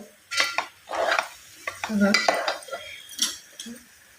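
Powdered sugar stirred in a metal pan, a spoon scraping and clinking in short uneven bursts, close and fairly loud.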